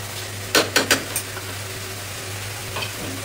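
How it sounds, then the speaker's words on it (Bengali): Goat meat fried down with spices sizzles steadily in a pot, broken by a quick cluster of three or four close stirring scrapes and one later scrape, with no voices. "মাংসটা কিন্তু খুব দারুণ কষানো হচ্ছে, একদম কষানো"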